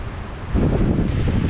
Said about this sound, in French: Un vent de ouf aujourd'hui!